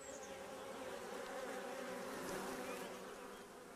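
A steady, dense buzzing of many bees close by, continuous and fairly loud throughout with no voices.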